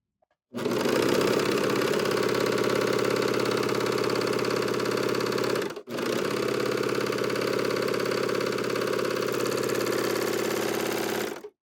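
A serger sewing machine chain piecing knit fabric runs at a steady, loud, continuous whir, breaking off for a split second midway before resuming and then stopping.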